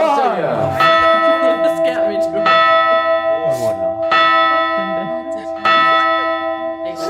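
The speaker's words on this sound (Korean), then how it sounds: "매일 밤 12시를 알리는 종소리가 울리면" A church bell tolls midnight, each loud, ringing strike arriving about every second and a half and hanging in a long resonant hum, with faint voices beneath.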